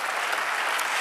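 Church congregation clapping together in sustained, steady applause during a Spanish-language worship service, dense and close throughout with no voices standing out.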